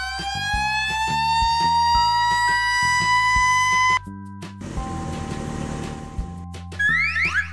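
Toy fire truck siren, a loud close electronic wail rising in pitch and holding a steady tone, then cutting to a lower electronic sound and ending with a short rising sweep.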